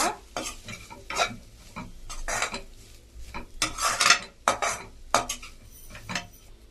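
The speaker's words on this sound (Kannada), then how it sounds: "ಈಗ ನಾವು ರೈಸ್ ಹಾಕಿಸ್ಕೊಂಡು ಮಿಕ್ಸ್ ಮಾಡ್ಕೊಳ್ಳೋಣ." A spoon scrapes and clinks against a pan in quick irregular strokes as cooked rice is tossed into mango chitranna, with a soft sizzle underneath and no voices.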